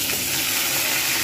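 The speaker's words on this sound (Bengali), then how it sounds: "আমি প্রথমে কাঁকরোলটাকে ভালোভাবে ভেজে নেব" Teasel gourd frying in hot mustard oil: a steady, close sizzling hiss with no pauses across the short stretch.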